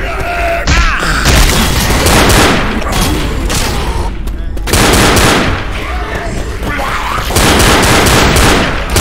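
Bomb explosion in the zombie shooter Left 4 Dead, a massive roaring blast amid heavy gunfire and chaotic noise, very loud and sustained, with a brief lull before another surge; voices are mixed into the din.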